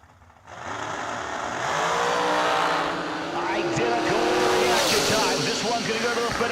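At a drag strip, a dragster roars off the line with a loud, sustained engine howl that swells and rises in pitch, close and powerful, while an announcer's voice carries over the racket.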